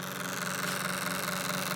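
A small electric motor drives the oil pump of a waste oil burner, giving a steady, low, even hum with a faint vibrating buzz, moderately quiet and unbroken, with no talking.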